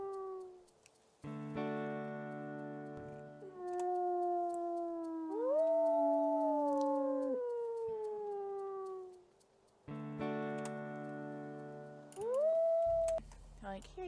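Wolves howl in the WolfQuest video game, several long, rising and falling tones that overlap into a chorus, loud and close, with a second burst of howling after a short pause.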